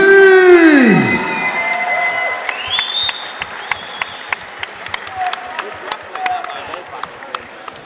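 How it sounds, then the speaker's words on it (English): Crowd at an amateur MMA event applauding and cheering both fighters, a loud burst of cheers and whoops fading into scattered claps against a ringing, echoing hall tone. "let's have a big round of applause for both fighters, please!"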